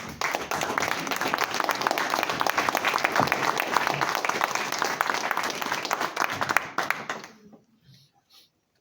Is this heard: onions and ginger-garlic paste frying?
no